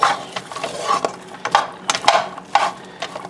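Onions sautéing in a pan for a pot pie filling, with repeated scraping and clinking stirs over a soft, steady sizzle, close up and with no talking.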